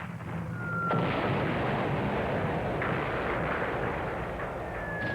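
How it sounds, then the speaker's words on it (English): Bombs burst during a Japanese air attack on a large fleet anchored in a wartime harbour in Australia, heard as a dense, continuous roar of rumbling explosions with a sharp onset, heavy and sustained throughout. "Japanese bombs were already ripping into the large fleet at anchor in the harbour"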